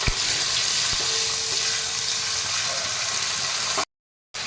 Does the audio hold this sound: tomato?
yes